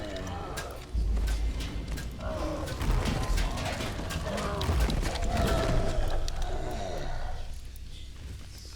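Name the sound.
ancient gears grinding underground, Dungeons & Dragons Online video game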